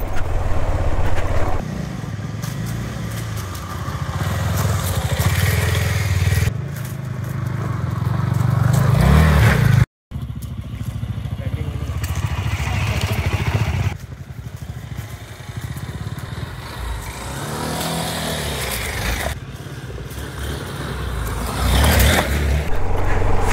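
A motorcycle climbs an offroad slope in first gear at Kakrajhore. Its engine drones loudly and continuously, rising and falling, with a brief cut near the middle and no speech over it.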